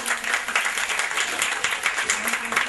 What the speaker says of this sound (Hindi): तो ब्यूटिशियंस के लिए बहुत सारी तालियां होनी चाहिए